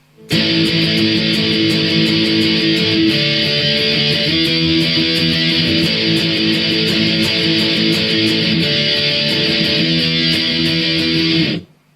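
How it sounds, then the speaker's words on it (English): An electric guitar chugs through distorted power chords for the intro of a song, a loud, dense, sustained wall of crunchy chords with steady strummed accents and no voice, cutting off abruptly at the end. "And so the intro then is just going to be some power chords."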